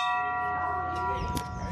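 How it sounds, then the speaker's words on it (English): A large bell inside the Presque Isle lighthouse in Michigan rings with a sustained, shimmering metallic tone that fills the space and slowly decays, with faint voices and movement sounds underneath. "I'm gonna ring the bell."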